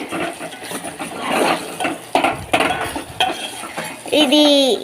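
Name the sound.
stirring eggs with a ladle in a pan for fried rice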